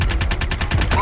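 Rapid gunfire in the video game Army of Two, from an enemy perched far up during an oil field battle, a dense run of repeated shots filling the whole second with steady pulsing bursts.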